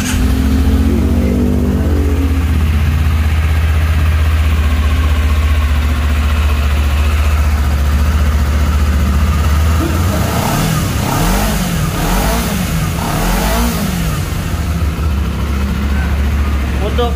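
A Honda CBR 250RR motorcycle engine idles with a steady low rumble, then revs up several times in rising and falling sweeps before settling back to idle, loud and close, with someone talking at times.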